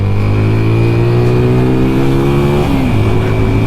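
A TVS Apache RTR 200 4V motorcycle revs loudly up close, its exhaust note climbing steadily in pitch before dropping sharply as the throttle is released.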